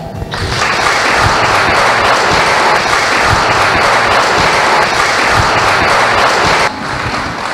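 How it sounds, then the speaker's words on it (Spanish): Audience applause at a ceremony honoring pioneering women, loud dense clapping swelling in quickly and holding steady for several seconds before dropping off abruptly near the end. "yo sí quisiera un aplauso para él"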